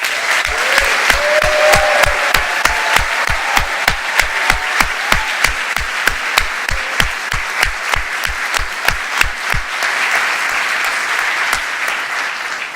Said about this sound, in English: Could you please give a warm round of applause